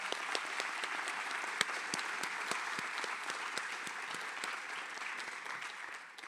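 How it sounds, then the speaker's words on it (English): An audience at a graduation ceremony applauds the valedictorian, steady, dense clapping from a large crowd that carries on for several seconds and fades slightly at the end. "Another round of applause for our valedictorian."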